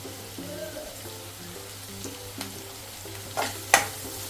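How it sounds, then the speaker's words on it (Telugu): A cup of onions fries in oil with a spoon of salt for a dry fish curry, a low sizzle under scattered clinks and scrapes of stirring, with a steady hum and a few louder knocks near the end. "ఇప్పుడు ఇదే ఆయిల్లో మనము 1 కప్ ఆనియన్స్ వేసుకుందాం"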